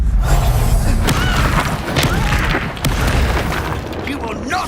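A spell being cast in the video game Hogwarts Legacy: a loud, dense burst of booming magical impact and thuds amid continuous combat noise, with a voice shouting over it.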